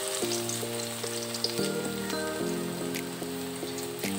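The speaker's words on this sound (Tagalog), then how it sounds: "Ilagay na natin yung ating garlic." Garlic sizzles in a hot pan, a close, steady hiss and crackle heard alongside a sustained background hum that shifts pitch partway through, with no talk.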